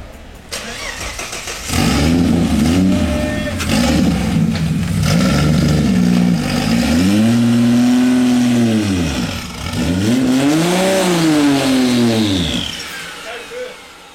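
A car launches with the clutch dumped in first gear, the engine revving hard and loud up close, rising and falling through two strong pulls. Voices are faintly audible early on.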